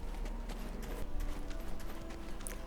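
Horse hooves clip-clop in Black Desert Online, a close, steady trotting patter with faint ambient game sound behind it and no voices.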